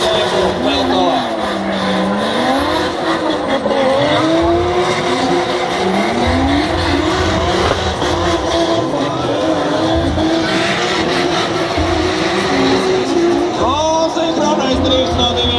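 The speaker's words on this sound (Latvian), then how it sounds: "Drifts no diviem labākajiem Ziemeļeiropas braucējiem" Drift cars slide at a Northern European drift event, engines revving and wailing while tires squeal loudly and continuously, with a voice talking over the action.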